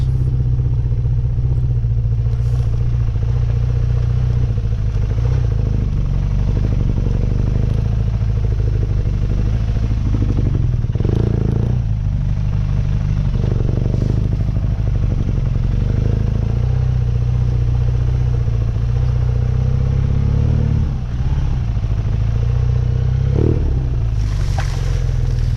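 A BMW R nineT Urban GS motorcycle engine drones steadily and loudly on a river trail through sand-filled whoops, with wind buffeting and occasional clatter and thumps over the bumps.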